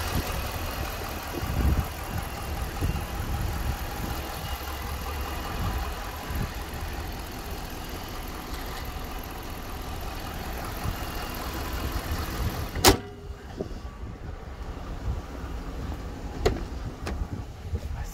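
A 5.7-liter V8 Hemi engine in a 2014 Jeep Grand Cherokee Limited runs steadily at close range, with a low, even rumble throughout and a sharp knock or click near the end.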